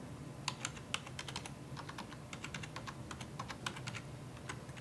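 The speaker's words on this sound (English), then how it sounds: "and then type in your library password" Quiet keystrokes on a computer keyboard as a library password is entered, a steady run of soft clicks with brief pauses over a low room hum, no voices.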